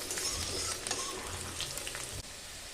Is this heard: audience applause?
no